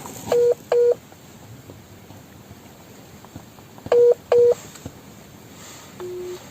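Telephone keypad tones from a call being redialed, in two pairs of short, loud beeps near the start and again around four seconds in, then a steadier tone at the end over faint background noise.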